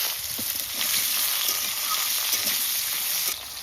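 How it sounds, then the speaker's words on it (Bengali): Cut potatoes fry in hot oil with cumin, salt and turmeric, giving a steady, close sizzle that holds evenly throughout and drops slightly at the very end. "লবণ আর হলুদ দিয়ে আলুটা ভাজা করে নেব।"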